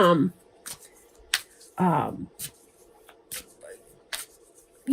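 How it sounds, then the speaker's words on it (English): Oracle cards are shuffled and riffled in quick, crisp bursts of papery flicking, close by, separated by pauses and a couple of brief voice sounds. "you may hear me shuffling the Sacred Traveler Oracle cards that I'm working with today"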